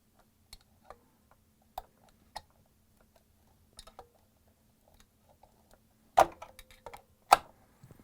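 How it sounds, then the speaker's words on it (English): Small sharp ticks and clicks from a flathead screwdriver prying a plug off the compressor of a Frigidaire/Electrolux unit, scattered at first, then a louder cluster of scraping snaps near the end, close and without talk. "I'm using a flathead screwdriver, and I'm going to pry this plug from the compressor"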